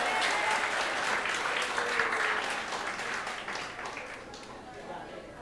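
Church congregation applauding during a sermon, a steady wash of clapping that fades slightly toward the end, with voices faintly mixed in.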